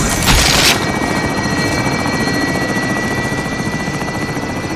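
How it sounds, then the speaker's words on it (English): A Call of Duty Warzone extraction helicopter roars loud and close, its steady rotor drone holding throughout after a short harsh burst at the start. "Extraction helo is ready for pickup."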